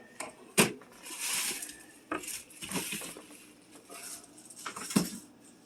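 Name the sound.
chopping board being handled in kitchen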